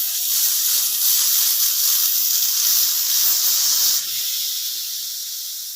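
A pressure cooker holding soaked matar dal lets out a loud, continuous steam hiss that holds steady, then eases slightly partway through and carries on alone.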